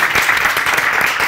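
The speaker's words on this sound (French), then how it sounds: "C'est pas mal, on applaudit." A brief burst of applause from a small group of students in a room, with quick, fairly close hand claps running steadily for about a second.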